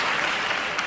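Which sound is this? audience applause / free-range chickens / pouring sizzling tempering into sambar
audience applause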